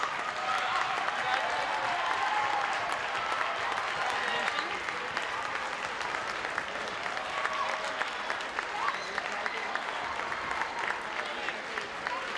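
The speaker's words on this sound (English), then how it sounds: "have some serious applause." Audience applause at a championship debate awards ceremony for the second place team, steady sustained clapping from a large crowd, moderately distant, with faint voices mixed in.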